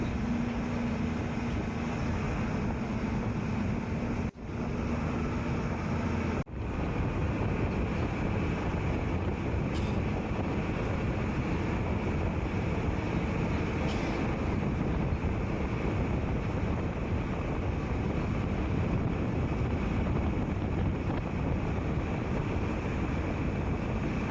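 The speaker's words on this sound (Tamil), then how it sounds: "கடலில் போட்டிங் போகிறது கொஞ்சம் நல்லா தாங்க இருக்குது அப்படியே கொஞ்சம் அப்படியே ஆடுற மாதிரி இருக்குது" A boat ride on the sea at Kanyakumari, heard from a seat by the window, with a steady loud rush of engine, water and wind throughout and a couple of brief knocks early on.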